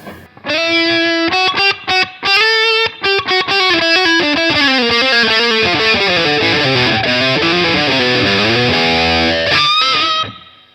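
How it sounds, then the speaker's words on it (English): Overdriven electric guitar through a Marshall Valvestate 8080 amp with reverb added, loud ringing chords and picked single notes with brief gaps early on, then a long sustained run that cuts off near the end, no talk. "So again, we can put reverb on."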